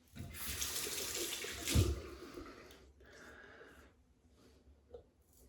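Water runs from a tap into a sink for a cold rinse after shaving, a close, steady splashing stream that eases off toward the end with a few faint drips and splashes.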